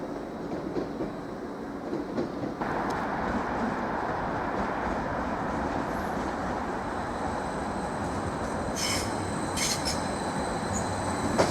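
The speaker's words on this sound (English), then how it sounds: "(755-325) is now arriving from the Wherry lines." A Class 755 train pulls into Norwich station, a steady rumbling roll of wheels on rail with brief squeals and clicks near the end, close and continuous.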